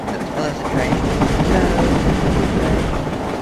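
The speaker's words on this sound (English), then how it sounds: "Oh, there's a train." A train rolls past in the sandbox video game Garry's Mod, giving a steady, loud rumbling clatter of rail wheels that holds level for a few seconds.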